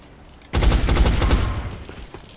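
Heavy soldiers in XCOM Enemy Unknown open fire, a sudden loud burst of rapid gunfire that starts after a short quiet pause, rattles on for about a second and trails off into a fading echo.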